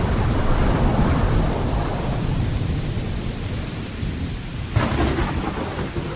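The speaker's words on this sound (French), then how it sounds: "un violent orage éclate sur la Vilaine" A violent thunderstorm over the Vilaine: heavy, steady rain roars with deep rolling thunder throughout, and a sharper thunder crack comes near the end.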